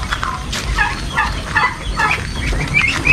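Chicks being transferred peep loudly and close by in quick, high chirps, several calls in a row overlapping a background of shuffling and handling noise.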